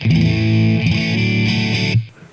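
Electric guitar through a TC Electronic Dark Matter distortion pedal set to the voice-down position, one sustained, heavily distorted chord ringing loud for about two seconds and then cut off sharply.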